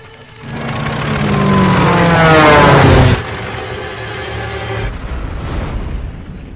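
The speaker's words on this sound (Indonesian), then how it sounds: "tiba-tiba saja John melihat sebuah pesawat yang akan jatuh" An airplane about to crash in a TV series roars in with a rising engine drone that swells loud for about three seconds, then cuts to a lower, steadier rumble.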